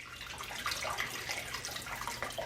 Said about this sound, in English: we're going to pour our glaze right in there.